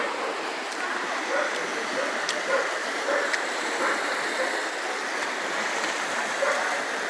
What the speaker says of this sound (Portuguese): A água já tá quase transbordando já.